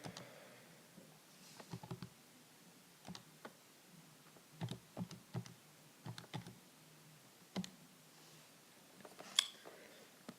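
Irregular bursts of quick, light plastic key presses as numbers are punched into a calculator, close and fairly quiet, with short pauses between groups of taps.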